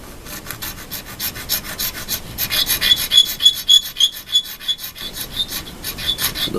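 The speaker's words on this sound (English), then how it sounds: "so we need to go down about another 10 thousandths with our filing." A metal file rasps on a guitar part in quick, steady back-and-forth strokes, close and fairly loud, with a rhythmic scraping pulse and no talking.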